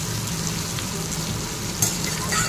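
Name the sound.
onions frying in oil with bay leaf and whole garam masala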